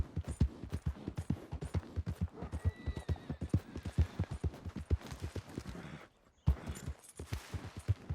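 Horse hooves clip-clopping in Red Dead Redemption 2, a steady fast rhythm of close, loud hoofbeats that continues with a brief break near the end before resuming.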